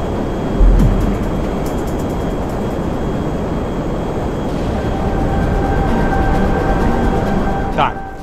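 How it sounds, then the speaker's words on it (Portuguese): Airplane in flight in GTA V, a loud steady engine roar with a thump near the start, heard from the player's own aircraft. "Mano, eita, um outro jato aqui embaixo? Não, um avião."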